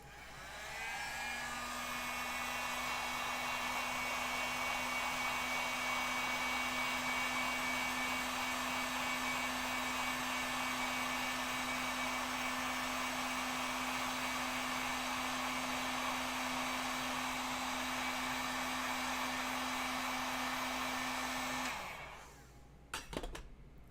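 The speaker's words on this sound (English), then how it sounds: "That's where the heat gun comes in handy." A heat gun blows continuously at close range for over twenty seconds to loosen a stuck lid on an old costume piece, a loud steady whirring roar with a constant hum, then it cuts off with a brief clatter.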